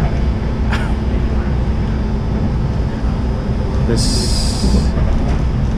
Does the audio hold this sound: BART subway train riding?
yes